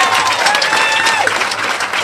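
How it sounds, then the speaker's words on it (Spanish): Dense, sustained applause from an audience greeting a doctor and his delegation on a Spanish-language television program, steady and loud throughout with crowd noise, and a faint voice briefly audible underneath. "pido un fuerte aplauso para el doctor Alemán y toda su comitiva"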